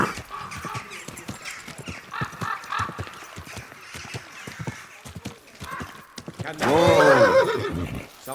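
Horse hooves clop in an uneven trot in Kingdom Come: Deliverance, then the horse gives a loud, close neigh near the end.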